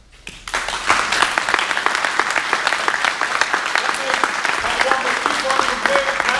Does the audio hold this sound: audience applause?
yes